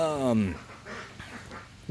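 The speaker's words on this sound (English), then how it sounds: "Forgive the sound of my pet ducks back here behind me." Pet ducks quack behind a person, with a nasal, honking call at the start and another beginning at the very end, amid low background sound.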